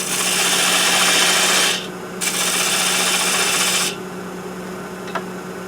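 A wood lathe turns a peppermill blank with the tailstock support engaged, giving a steady close scraping and rubbing hiss that cuts off partway, resumes, then drops to a low motor hum.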